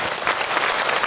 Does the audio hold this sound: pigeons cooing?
no